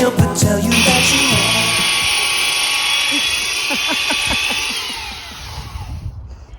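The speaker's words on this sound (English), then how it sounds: "so we're just sanding it all off and we're gonna refinish them." Power sander working over old moldy wooden blocks from an RV, a loud continuous whine with a high steady tone that runs several seconds, tapers off near the end, with music playing underneath.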